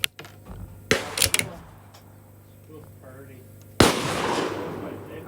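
A CZ 457 rifle fires at a shooting match, with a few sharp, loud cracks spaced seconds apart, one of them with a lingering echo, while people talk nearby.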